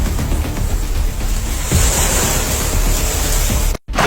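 Sea waves surge and wash steadily along a beach, with a continuous broad roar and rushing hiss from breaking surf and some wind buffeting, before cutting out abruptly near the end.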